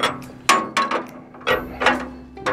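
A 30 millimeter wrench works a jam nut on a bolt on a feeder house drive belt adjustment, giving a series of sharp metallic clicks and ratchet-like clanks in uneven bursts, close and fairly clear.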